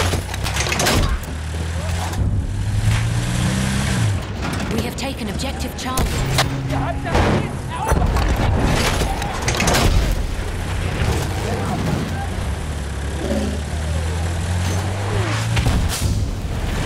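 Tank rumbling through a Battlefield 1 Operations match, a heavy low engine drone with tonal mechanical whine, amid booms, gunfire and battlefield noise throughout, with voices calling out in game.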